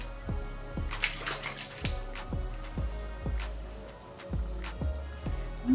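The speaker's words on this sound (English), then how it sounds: "I'm just saturating my hair with the water" Water is applied to saturate hair in a quiet series of evenly spaced squirts, about one every second or less, each a short sharp spritz.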